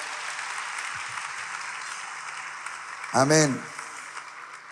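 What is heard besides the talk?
congregation applause in church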